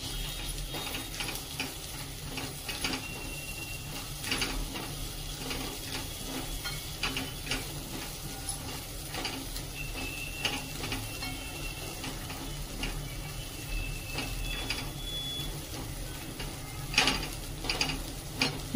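Sweet corn with a pinch of asafoetida sautés in a pan, a low continuous sizzle broken by repeated scraping and stirring clicks from a spoon, close and moderately quiet.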